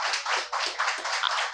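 Audience clapping at a Lucknow poetry open mic, a short burst of brisk, close applause with dense overlapping claps lasting about a second and a half.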